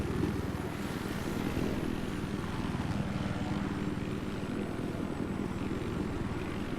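A helicopter in Battlefield 4 on PC drones steadily with a continuous low rotor thrum and engine hum, loud and unbroken, with no voices over it.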